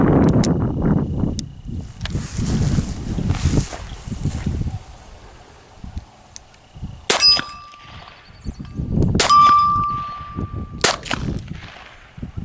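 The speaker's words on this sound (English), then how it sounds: "take a couple shots with the lemon squeezer" A Smith & Wesson .38 Safety Hammerless New Departure lemon squeezer revolver firing at steel targets, with sharp shots followed by ringing metallic clangs, two loud and one fainter, between stretches of voices talking.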